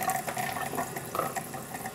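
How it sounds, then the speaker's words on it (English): Water running into a container of salted water for cleaning clams in a home kitchen, a continuous splashing and gurgling pour that is close and steady throughout. "And you put in the water."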